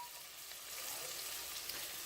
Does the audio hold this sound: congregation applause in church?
no